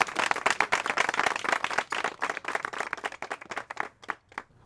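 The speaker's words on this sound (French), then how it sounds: "Applaudissements pour Monsieur Victor." Audience applause for the mayor at a garage inauguration, lively close clapping that thins out toward the end and tapers into scattered claps.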